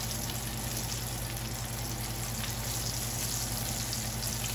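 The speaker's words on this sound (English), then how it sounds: "these are deep fried" Bean and chorizo tacos dorados deep fry in hot oil, a steady, even sizzle and fine crackle holding constant throughout with a low hum underneath, close and moderately loud, no talking.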